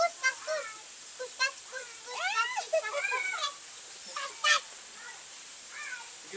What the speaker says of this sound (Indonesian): Alamak, itik lah pula.